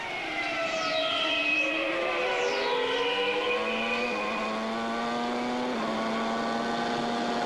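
A 1994 Formula One car with a Renault engine screams past during Australian Grand Prix qualifying, spinning its wheels out of a corner. Its loud engine pitch rises through the gears and sweeps by, with another car's whine audible alongside.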